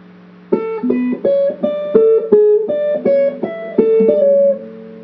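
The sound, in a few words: guitar playing melody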